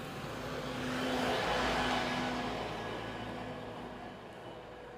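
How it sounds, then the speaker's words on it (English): Garbage truck driving slowly through a car-free Swiss mountain village, its engine a steady broad rumble that swells as it passes close around the middle and then eases off, with no talking. "Sweet, that was the garbage truck."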